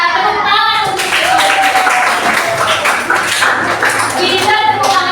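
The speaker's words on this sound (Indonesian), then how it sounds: "Tepuk tangan untuk itu." A class of students claps for a team during a high school Indonesian lesson. The clapping is close and lively, mixed with children's voices and chatter, and runs on for a few seconds.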